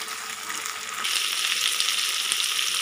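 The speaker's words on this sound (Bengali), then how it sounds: "এবারে কড়াই সবিনগুলো ভেজে নেব তেলে।" Soya chunks frying in oil in a wok: a quieter sizzle that jumps to a loud, bright, crackling fry after about a second and holds steady close by.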